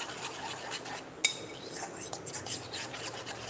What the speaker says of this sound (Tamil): முள்ளு கரண்டி வச்சு கலக்குறேன்